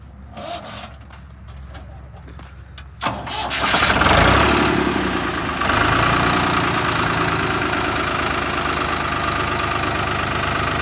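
A tractor hitched to a trolley in a soaked paddy field cranks and catches after a few quiet seconds, surges loudly, then settles into a steady, close, throbbing diesel idle that carries on to the end.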